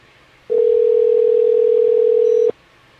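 A single steady electronic telephone tone sounds for about two seconds, clear and continuous against a quiet background, then cuts off abruptly.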